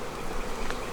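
Carniolan honey bees hum in a dense, steady buzz close by in a bee yard, filling a brief moment with no other sound.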